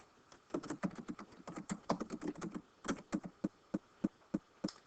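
Close, quiet typing on a computer keyboard: a quick run of dense keystrokes that thins into slower, evenly spaced taps toward the end, with no voice.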